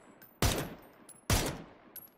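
Gunfire in PUBG on the Vikendi map, two sharp separate shots about a second apart followed by a fainter third pop, close and fairly loud.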